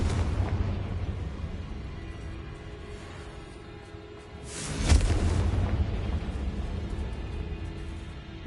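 A Confringo spell in Hogwarts Legacy on PS5 bursts into a loud, close explosion with a sharp boom, set against a steady rumbling game background.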